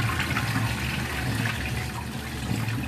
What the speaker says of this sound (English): I'll probably have to like rinse this rice off like 10 more times